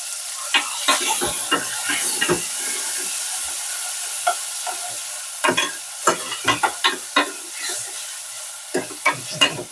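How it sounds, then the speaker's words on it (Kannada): Chopped tomato frying in hot oil over a tempering of crackling mustard seeds, cumin and curry leaves, with a steady close sizzle, bright crackle and pops, and repeated sharp scrapes of stirring. "ಟೊಮೆಟೊ ಬೇಗ ಫ್ರೈ ಆಗಿಬಿಡುತ್ತೆ, ಚೆನ್ನಾಗಿ ಸ್ಮ್ಯಾಶ್ ಆಗುತ್ತೆ"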